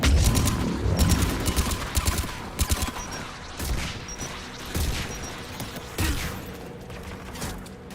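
Geth anti-aircraft guns in the video game Mass Effect firing in dense, repeated volleys of booming shots, loud and continuous across the whole stretch with mechanical clatter between bursts.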